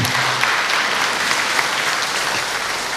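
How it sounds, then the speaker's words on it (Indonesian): Audience applause at a National Elderly Day event in Indonesia, a steady, loud crowd clapping that fills the whole moment without pause. "kita berikan aplaus yang sebesar-besarnya"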